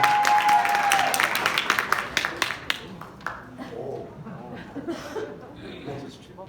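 Scattered clapping from an audience at a church high school youth festival, fading over a few seconds while birds chirp and coo in the background.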